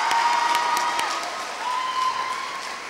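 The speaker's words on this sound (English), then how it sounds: "Can we give them a round of applause?" A room full of people at a Year 11 school evening claps loudly for student helpers, with a little cheering mixed in. A steady thin tone rises above the dense clapping, which eases slightly toward the end.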